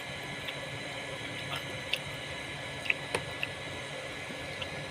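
Fish frying in a pan gives off a steady, low sizzle with scattered soft pops and crackles, faint and continuous throughout.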